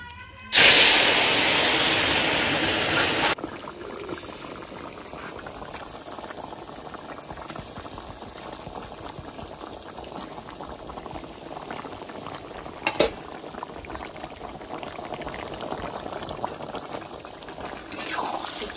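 A loud burst of sizzling and hissing as kohlrabi curry hits a hot pot, then a softer, steady bubbling simmer continues close by.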